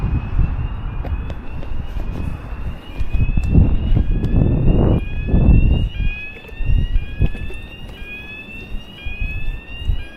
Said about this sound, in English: Don't know why that alarm is going off, John